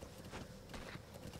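Horse hooves clip-clopping in the video game Metal Gear Solid V: The Phantom Pain, a quick, faint rhythmic patter of steps over a short stretch, with no speech.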